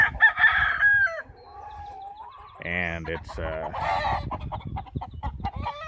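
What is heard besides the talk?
game chickens crowing and clucking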